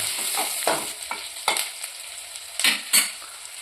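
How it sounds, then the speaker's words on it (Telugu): Onions and curry leaves fry in a pan with a soft steady sizzle, broken by several louder scraping stirs of a spoon against the pan, close and without talking. "ఇప్పుడైతే కరివేపాకు వేసి కలుపుతుందనమాట"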